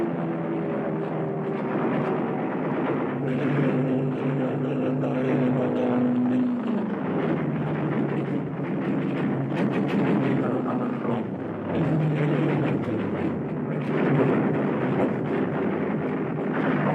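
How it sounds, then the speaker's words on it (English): WWII fighter planes, American P-38s and Spitfires, attacking Messerschmitts and Junkers in combat, heard as a sustained droning roar of propeller engines with shifting pitch, loud and continuous throughout. "American P-38 rise to the attack. T-38 and Spitfires against Messerschmitt and Junkers."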